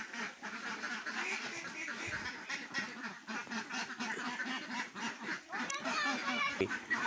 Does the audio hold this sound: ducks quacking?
yes